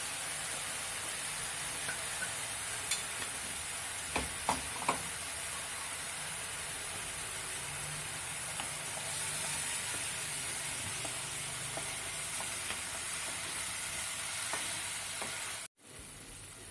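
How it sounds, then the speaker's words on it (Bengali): Spices and coriander powder stir-fried in a kadai for methi chaman, a steady soft sizzle with a few scraping spoon knocks near the middle, then a sudden cut at the end; no talk. "কড়াতে একটু নেড়ে নিয়ে"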